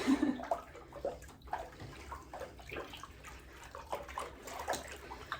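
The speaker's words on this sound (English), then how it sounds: "Okay, so here's the first rinse. I'm just rinsing it." Water runs and splashes steadily in a sink or basin as an old cross stitch fabric is rinsed under it, with irregular sloshing bursts close by and no talk.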